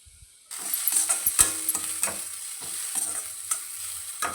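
Beetroot poriyal sizzles in a pan, starting abruptly after a quiet moment, with a soft frying hiss and intermittent scrapes and clicks of a spatula stirring it, close and fairly quiet.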